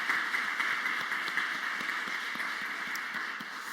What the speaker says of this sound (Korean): 감사의 박수 한 번 더 하도록 하겠습니다